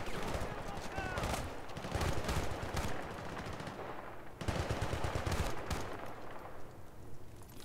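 Automatic gunfire in the Bad Company 2 video game, loud bursts of rapid shots with a brief lull near the middle before the firing resumes just as hard, close and continuous.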